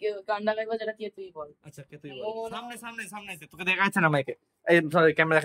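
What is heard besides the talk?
No everyday noises stand out.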